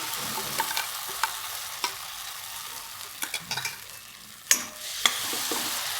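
Wet, soaked chana dal batter is stirred and sautéed in a pan with a soft, steady sizzle. A spoon scrapes and taps against the metal now and then at close range, with no talk.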